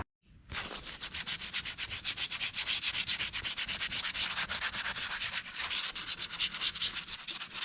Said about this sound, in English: I'm gonna rough up the epoxy so it's not so shiny